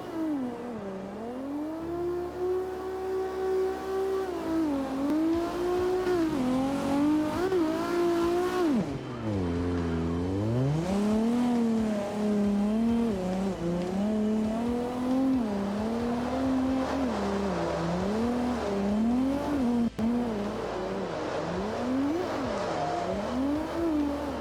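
A race car at Irwindale drives hard, its engine revving up and down in repeated surges with brief lifts and possible tire squeal, loud and close throughout.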